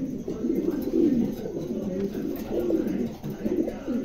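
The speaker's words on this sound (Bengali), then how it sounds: "চমৎকার এক জোড়া কবুতর" A pair of Bokhara pigeons coos close by in low, rolling, throaty phrases that swell and fade over several seconds, with faint background noise and no clear talk.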